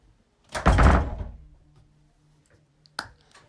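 A door swings shut with a solid thud close by, followed by a faint rattle as it settles, then a small sharp knock a couple of seconds later in a quiet room.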